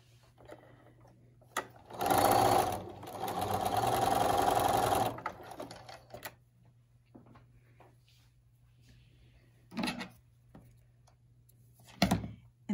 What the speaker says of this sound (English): I'm going to go sew my 1/4 inch